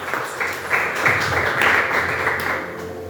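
A church congregation claps together in praise during a service, a continuous, fairly loud patter of many hands with some music or voices underneath, holding steady throughout.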